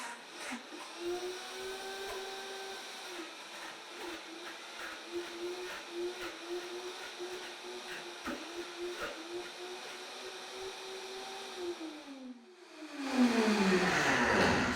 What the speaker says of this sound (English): So I'm going to cover my blender.